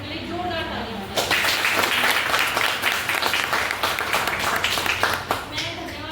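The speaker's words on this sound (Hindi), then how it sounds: "तो आप लोग पहले हमारे मैनेजमेंट के लिए जोरदार तालियां बजाएं।" Audience at a company meeting breaking into loud, sustained applause after a woman's spoken introduction, clapping dense and close for several seconds before tapering off.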